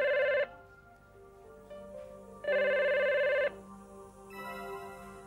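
A telephone rings in two loud trilling bursts separated by a pause, then a fainter tone follows.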